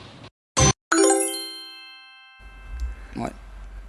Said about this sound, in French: Dring, le petit gong qui a résonné